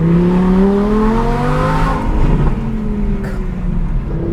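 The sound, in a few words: Audi R8 V10 Plus center exit exhaust revving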